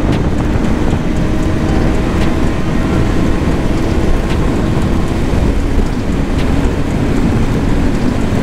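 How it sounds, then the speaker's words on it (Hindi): Heavy rain falling outdoors during a motorcycle ride, a dense continuous roar with no talk. "उधर तो लग रहा और भी तेज़ बारिश हो रहा है"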